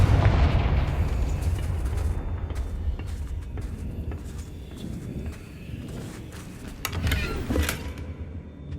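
A Confringo fire spell cast in Hogwarts Legacy: a broad, rumbling explosive blast fills the scene, fading into a continuous low roar with scattered crackles and a second burst of impact noise toward the end.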